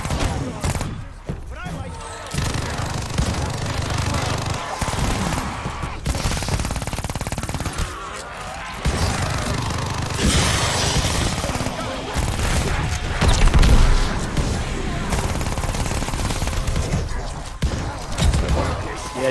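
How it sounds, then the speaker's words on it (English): Rapid machine gun bursts rattle through a Call of Duty Vanguard zombies match, loud and repeated in clusters with brief pauses, mixed with other game effects and a player talking over the action. "there's a zombie with a machine gun"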